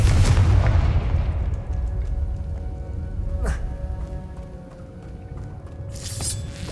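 A Confringo fire spell from the video game Hogwarts Legacy lands as a loud, rumbling explosion, then fades into a long crackling wash with a sharp burst partway through and another near the end.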